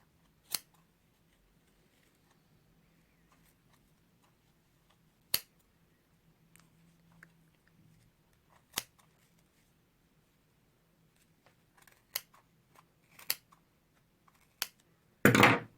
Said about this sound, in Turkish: Bu iki katın arasından makasımı geçiriyorum.